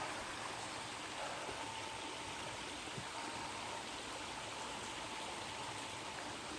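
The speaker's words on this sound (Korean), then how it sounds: "이 골짜기는 1년 내내 골짜기 물이 흘러내립니다." A small mountain valley stream flows steadily with a faint, continuous rushing and trickling of water, with no voices and no break in the sound.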